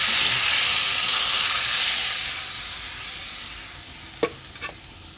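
Spices sauté in a pan, giving a loud broad sizzle that slowly fades over a few seconds, followed by two sharp scraping clicks near the end.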